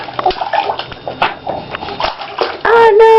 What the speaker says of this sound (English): Oh no, you're splashing my camera.